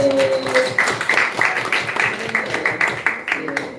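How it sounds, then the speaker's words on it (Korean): A church congregation claps together in a dense, moderately loud patter for a few seconds, with murmuring voices mixed in. "박수."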